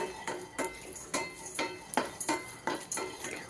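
Whole spices and cashews dry-roasting in a pan (cinnamon stick, two cardamom pods, four cloves, coriander seeds) with a steady run of sharp scraping stirs at regular intervals, close and moderately loud, with no voices.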